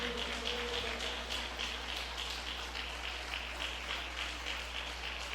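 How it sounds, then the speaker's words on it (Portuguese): Congregation applauding at a church Bible study service, a dense, steady wash of clapping held for several seconds at fairly even loudness, with a low hum underneath. "Palmas alegres para a palavra de Deus"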